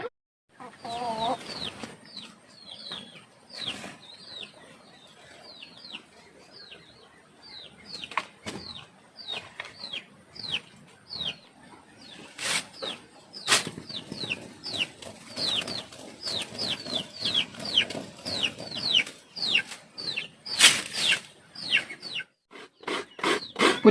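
Chickens on a farm in Lagonoy, Camarines Sur cluck and squawk in a busy, overlapping chorus that grows louder and denser, with occasional bursts of wing flapping nearby.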